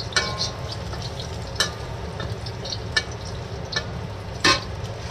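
Garlic fries in a pan until it browns, crackling and sizzling steadily close by, with occasional sharp clicks of a utensil stirring against the pan.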